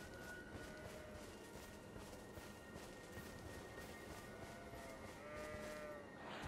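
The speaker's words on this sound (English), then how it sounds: "Goat!" Faint animal bleats and moos sound from a distance in Elden Ring, set against a quiet, airy ambient background, with a clearer cry near the end.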